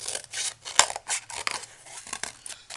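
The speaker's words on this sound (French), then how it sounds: "vous prenez votre paire de ciseaux." Quick, crisp snips of scissors cutting through material, repeated rapidly and close by, with no talking.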